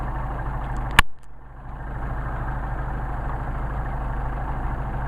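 A Mercedes 190SL engine fed by Solex carburetors idles with a steady low rumble throughout, broken by a single sharp click near the start and a brief dip in level before the even idle resumes.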